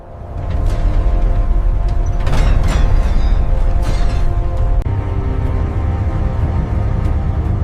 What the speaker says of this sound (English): The main blast doors closed against the storm.